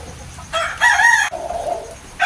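A barako rooster crows nearby, a loud, close, strained call rising and then falling off, lasting under two seconds.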